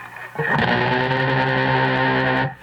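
Fretless cigar box guitar plays a blues lick through heavy distortion, a single loud sustained buzzing chord with rich overtones ringing for about two seconds before cutting off, close and without talk.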